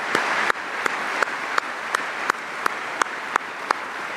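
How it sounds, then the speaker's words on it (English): Crowd applause for a guest at a National Guard Association event in Detroit, a steady wash of clapping filling a large hall, with sharper claps recurring at regular intervals. "So how about an applause for Mama Rock, who's here tonight."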